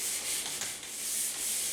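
Light hand sanding of drywall joint compound over taped seams, a steady, close scratchy rasp with soft back-and-forth strokes that continue without pause.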